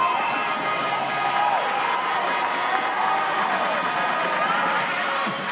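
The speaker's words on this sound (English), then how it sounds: "The crowd cheering. They know that's a try." A stadium crowd cheers and roars after a try in a rugby sevens cup final, a broad sustained wash of voices heard from a distance with commentary-style talk running over it.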